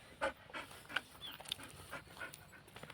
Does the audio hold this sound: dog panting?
yes